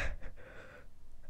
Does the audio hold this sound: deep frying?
no